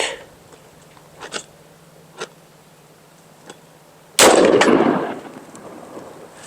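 A 5.56 or .308 rifle round strikes UHMWPE armor made from cutting boards: a sharp, loud report bursts out after several faint ticks and knocks, then decays over about a second into quiet outdoor background.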